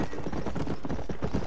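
Horse hooves in Red Dead Redemption, horse-breaking on a ranch: a steady rapid clip-clop of hoofbeats, close and continuous, with no talk.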